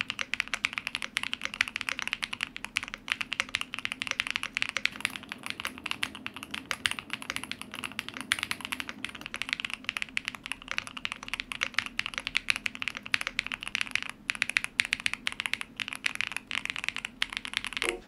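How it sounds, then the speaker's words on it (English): Steady, fast clacking of keys on a budget ND65 or ND75 mechanical keyboard, close and crisp, continuing without pause and with no voices. "the keyboard feels amazing to type on and sounds great out of the box"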